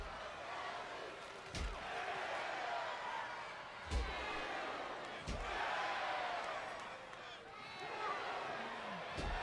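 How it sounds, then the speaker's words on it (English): Arena crowd at a WWE SmackDown wrestling event in Pittsburgh, a steady roar of cheering and chanting filling the hall, broken by several sharp ring slams; an announcer talks over it. "Just listen to this crowd."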